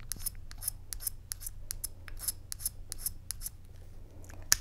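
A Høvel pencil sharpener working on a Mitsubishi pencil gives a quiet run of short, sharp scraping and cutting strokes, irregularly spaced over a low steady hum.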